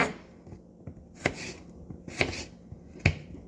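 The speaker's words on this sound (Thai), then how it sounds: "หั่นเป็นชิ้น" A knife chops food into pieces in a home kitchen, with a few crisp, separate cuts spaced about a second apart over quiet background.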